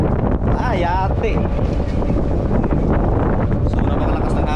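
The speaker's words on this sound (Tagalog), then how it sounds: "So napakalakas ng hangin ngayon" Strong wind roars and buffets the microphone nonstop on a boat, with rushing water and a faint engine hum beneath.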